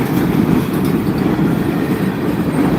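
A freight train rolls steadily past close by, a dense continuous rumble of wheels and cars at an even loudness with no break and no voices.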